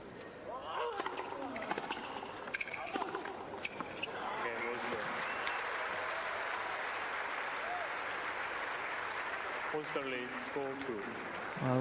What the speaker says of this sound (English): Well, rich applause from this crowd